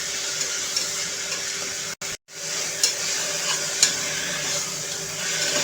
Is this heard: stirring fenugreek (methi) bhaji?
yes